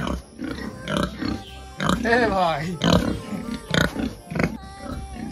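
Pigs on a farm grunt in short, low snorts close by, mixed in with someone talking over them throughout.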